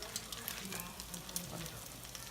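Salmon patties sizzle steadily in extra virgin olive oil, a soft continuous crackle and hiss with faint low clatter, close and unbroken for a couple of seconds without speech.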